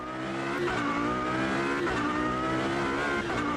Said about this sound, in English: as you could hear, the car, it's just pulling